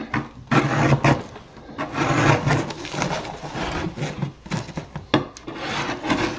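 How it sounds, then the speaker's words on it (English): Someone scrapes a surface on a hydroponic bucket, making rough, rasping strokes that repeat in an uneven rhythm, close and fairly loud, with no talking. "I'm gonna just scrape it and show you how easy this is"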